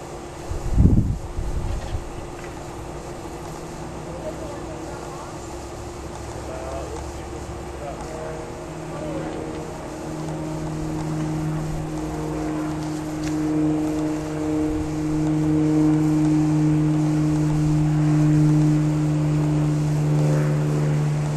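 Space Shuttle launch seen from a suburban backyard, a low, steady rumble that builds and sustains into a broad roar, with wind buffeting the microphone and people talking over it.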